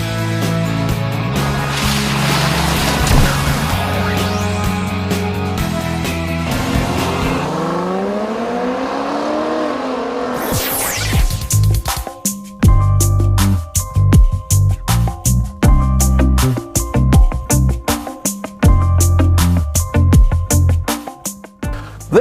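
A 2014 Toyota Sienna minivan with its 3.5 liter V6 pulls hard under acceleration, the engine note climbing through the gears with shift breaks, then settling into a choppy, pulsing drone on the road.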